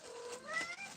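A cat gives a drawn-out, rising meow close by, clear and fairly soft, with no talking over it.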